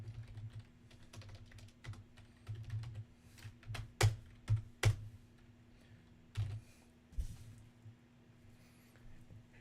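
Keystrokes rattle across a computer keyboard in irregular bursts, quiet taps mixed with a few sharper, louder clacks, close by under a steady low hum, with no talking.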